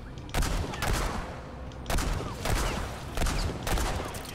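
Gunfire in the video game Remnant 2: a few sharp, loud shots in bursts, roughly four spaced reports over a few seconds, each with a ringing tail, with no talk.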